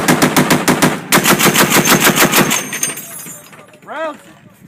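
.50 caliber machine gun firing long rapid bursts, loud and close, each round a sharp crack in a steady rhythm, then stopping as a voice speaks briefly at the end.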